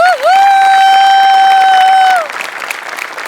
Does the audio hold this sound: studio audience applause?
yes